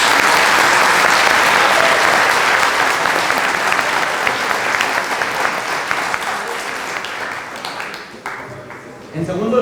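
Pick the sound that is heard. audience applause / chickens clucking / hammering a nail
audience applause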